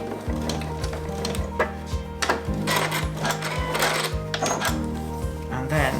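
A sewing machine backstitches the peak of a baker boy cap, a close rhythmic clatter of rapid needle strokes running steadily throughout, with a voice talking over it.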